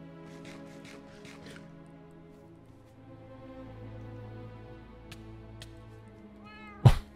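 A cat meows several times in the video game Minecraft, played with horror mods. Short, fairly faint mewing calls come early over a droning game background, and a louder sharp sound follows near the end.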